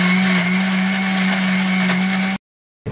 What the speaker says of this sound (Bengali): এই যে পেঁয়াজ, আদা, রসুন, টমেটো বেটে নিচ্ছি